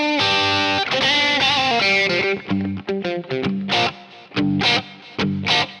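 Electric guitar played through the STL Tones Tonality plugin by Lasse Lammert, set for a bluesy tone, rings out in sustained bent notes, then short punchy licks and stabs.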